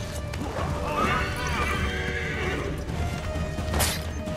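Horse in the video game Assassin's Creed 3 neighing loudly near the start, with hoof clatter and combat impacts around it and a crash near the end.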